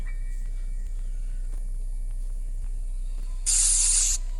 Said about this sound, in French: Pepper spray.